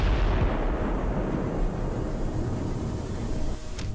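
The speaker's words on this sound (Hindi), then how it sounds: "बिल्डिंग की एक खिड़की को फोकस किया जाता है और फिर होता है एक बड़ा धमाका।" Large blast at a ruined building rolls out as a heavy, continuous low rumble and roar that fills the whole stretch before thinning slightly at the end.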